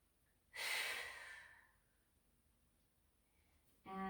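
A final deep breath during a mat Pilates exercise: one loud, close exhale that slowly fades, then near silence before another breath begins at the end.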